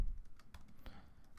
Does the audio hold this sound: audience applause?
no